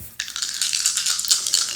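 Dice rolled for a card reading clatter and rattle briefly in a quick tumbling burst, close and fairly quiet, with no talking.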